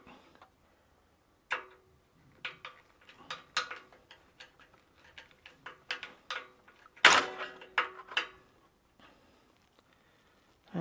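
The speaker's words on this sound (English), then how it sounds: "I need to put a whole lot of pressure on the screw in order to keep the screwdriver in the slit." Screwdriver working stubborn slotted screws on a green Kawasaki bicycle chain guard, giving a series of close, irregular metallic clicks and scraping ticks with short pauses, including one louder sharp scrape partway through.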